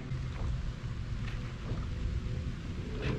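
Steady rain falling outdoors near a bridge, a dense continuous hiss with scattered louder drops and faint low rumbles, no voices.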